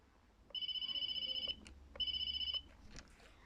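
Telephone ringing in a children's show, two bright electronic rings each about a second long with a short gap, close and clear over quiet background.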